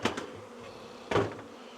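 Honey bees buzz around a hive entrance as a beekeeper handles the box: two short, faint buzzing passes, one at the start and a louder one near the end, with quiet gaps between.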